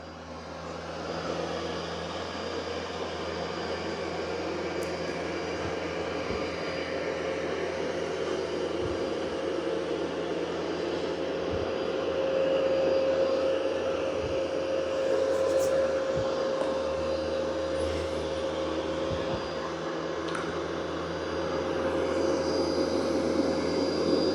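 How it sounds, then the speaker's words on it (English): An Ecovacs X11 Pro robot vacuum picks up spilled ground coffee indoors, giving a steady, even motor whir with a faint tonal hum that holds fairly constant throughout, with no talking. "it is doing a good job of vacuuming"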